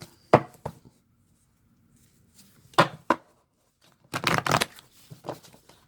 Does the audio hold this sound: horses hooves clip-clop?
no